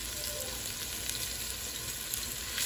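Garlic sizzling in about three tablespoons of hot oil for chicken fried rice, a soft, even crackling hiss that holds steady throughout with a faint high whine above it and no voices.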